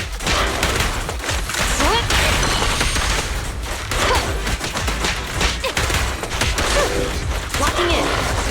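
Dense, continuous video game gunfire with rapid bursts, thumps and crashing impacts layered over each other, loud and unbroken with battle noise throughout.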